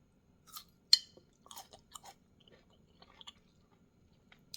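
Close crunching bites of fermented pear, a few sharp crisp chews separated by short pauses, with no talk over them.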